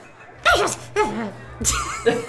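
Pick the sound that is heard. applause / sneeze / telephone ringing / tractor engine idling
sneeze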